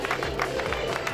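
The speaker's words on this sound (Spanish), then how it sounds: "el aplauso venga fuerte para Dani Arnal" Crowd applauding at a 2013 Challenge Aragón Masters cycling awards ceremony in Cariñena, a steady wash of clapping that blends with background chatter throughout.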